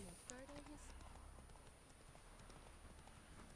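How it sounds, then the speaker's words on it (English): In The Witcher 3, a horse's hooves clop on stairs as it is ridden upward, a steady run of soft, regular footfalls under quiet game ambience, with brief voice-like tones at the start. "Always take a horse upstairs, why not?"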